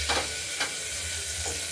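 Cumin, bay leaf and dried chilli sizzle steadily in hot oil inside a pressure cooker, with a few soft stirring scrapes breaking through the continuous frying hiss.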